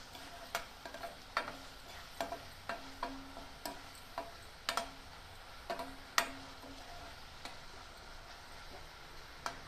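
Onion with a pinch of salt fries quietly in a pan, a faint low sizzle punctuated by a dozen or so sharp, close clicks and taps of a spatula against the pan at an irregular pace.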